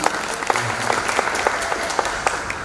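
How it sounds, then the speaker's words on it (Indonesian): A crowd claps steadily in dense, sustained applause, fairly close, with no voices standing out. "Sekali lagi kita beri tepuk tangan."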